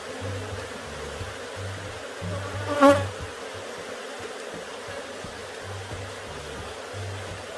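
Honey bees hum steadily around a hive after a colony split, a dense low drone with a brief louder buzz as one bee passes close, no voices.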